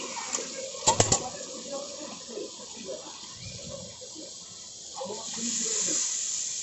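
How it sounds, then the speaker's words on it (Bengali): Water splashing and pouring while a masala-grinding vessel is washed during outdoor picnic cooking for a large group, with soft irregular sloshes, a few sharp clatters near the start and a faint trickle toward the end. "যেই পাত্রে মশলা বাটা হয়েছিল সেটা ধুয়ে একটু জল দেওয়া হলো।"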